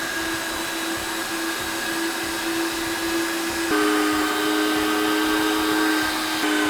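A Cuisinart electric meat grinder whirs continuously while grinding cubed beef chuck, a steady loud motor hum that shifts pitch slightly partway through as the load changes.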